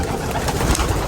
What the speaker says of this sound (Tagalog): mga kalapati natin dito na ililipad natin ngayon